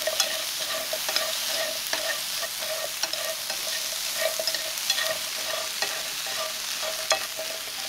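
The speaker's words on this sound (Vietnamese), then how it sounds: "mình gấp hành tây ra cho dễ rang" Steady crackling sizzle of onions frying in a pan, with scattered scraping taps of a utensil stirring, close and continuous, no voices.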